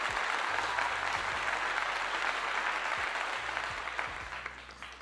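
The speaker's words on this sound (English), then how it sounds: "It deserves another clap." A crowd claps at a college football setting, steady applause that swells early and gradually fades toward the end, with no voices over it.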